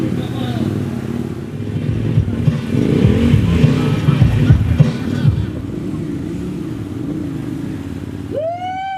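Several KTM 1190R adventure motorcycles ride off-road in Indonesia, their engines droning steadily at mid distance throughout, with a brief rising rev near the end.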